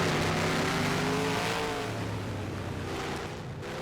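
A race car lapping the Mexico City circuit's stadium section in a racing video game, a steady engine drone at sustained high revs with no talking.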